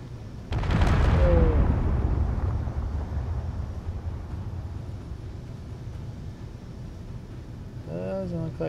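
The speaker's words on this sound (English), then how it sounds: "Doesn't look like it was that big of an explosion." A nuke detonates in the Space Engineers game with the UNSC Ship Weapons Mod, a loud low boom that swells and rumbles for a couple of seconds, then fades into a long hollow roar, with a brief voice near the end.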